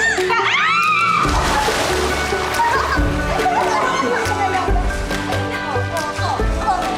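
Water sloshes and splashes as someone swims in a pool, a continuous close churning with occasional bigger splashes, while children and adults shout and talk over it.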